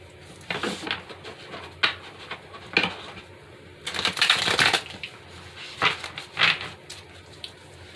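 Tarot cards being shuffled in several bursts of crisp riffling and flicking, close up, with short pauses between each run.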